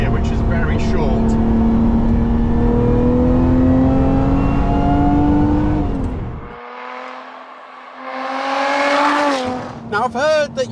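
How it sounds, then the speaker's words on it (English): A Lotus sports car engine revs hard and climbs steadily in pitch until it hits the limiter in first gear and cuts off, then rises again through another gear, loud and close. "Just hit the limiter there in first gear."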